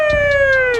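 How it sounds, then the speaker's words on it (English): A supercharger on a 500 HP Nissan 370Z whines loudly and close by: a strong, steady high-pitched tone that sags slightly in pitch over a split second. "You hear that supercharger"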